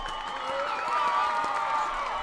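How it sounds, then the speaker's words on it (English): Applause sound effect dropped in during a song reaction, a steady wash of clapping and crowd cheering at moderate loudness lasting a couple of seconds without a break. "let's do an applause."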